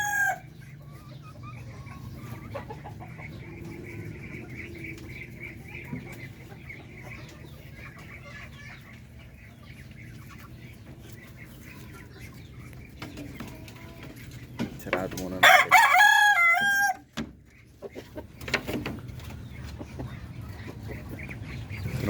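Large breeder ducks and other fowl at a Filipino farm, quacking and clucking faintly under a low background hum, with a louder close burst of calls near the end.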